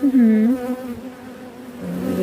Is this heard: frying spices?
no